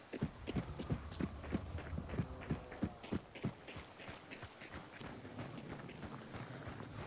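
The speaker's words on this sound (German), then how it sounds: "Oh, ich höre Pferd." Horse hooves in the video game Hunt: Showdown, a quick run of clip-clop footfalls beating rhythmically at close range, then trailing off into softer shuffling, faint overall.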